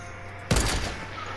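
A sudden burst of video game gunfire erupts about halfway through, a loud cluster of shots that rings out briefly and then fades into the steady game background hum.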